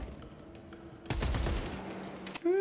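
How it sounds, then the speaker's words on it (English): An Oculus bolt carbine in Warhammer 40K Space Marine 2 opens fire mid-fight, a loud close burst of rapid shots over steady game ambience. "Oculus bolt carbine. What is that? Rapid fire mid-range carbine with extended mag."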